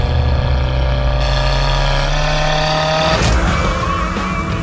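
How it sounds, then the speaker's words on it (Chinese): A car engine revs hard toward 5000 rpm, a loud sustained drone with rising harmonics and a sudden surge near the end, heard up close with no talking. "它这个发动机随随便便拉到5000转"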